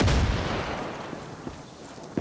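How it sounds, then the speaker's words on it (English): Turret gunfire in the video game Far Cry 6 during co-op play: a loud, dense burst of firing that fades into a rumbling tail, with a few softer thuds afterward. "I got shot by the turret."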